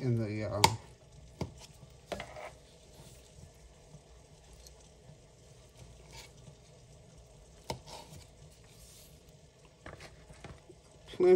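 A knife chopping through beef on a cutting board for a hearty vegetable beef soup, a few distinct close knocks scattered across a quiet stretch.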